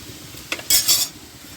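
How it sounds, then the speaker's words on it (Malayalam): Sliced onions sautéing with a pinch of salt for a chicken curry, a faint background sizzle broken by a quick clink and a brief burst of stirring scrapes near the middle. "അപ്പോൾ നമ്മുടെ സബോള നന്നായിട്ടൊന്ന് വഴന്ന് കിട്ടണം."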